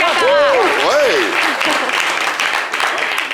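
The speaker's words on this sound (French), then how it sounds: "applaudissez tous les applaudissements pour téléspectateurs de Niakara" A television studio audience bursts into applause, dense clapping and cheering under a voice with rising, whooping inflections at the start, then steady clapping that carries on to the end.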